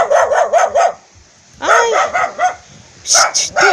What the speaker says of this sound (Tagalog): Yung aso nila, oh, kahul ng kahul, hindi nila ako kilala.